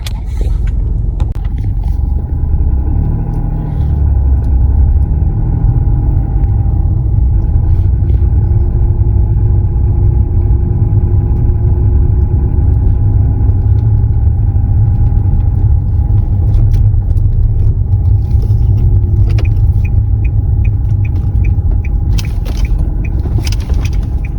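A car driving along a road, heard from inside as a loud, steady low rumble of engine and tires that holds continuously with little change and no talking.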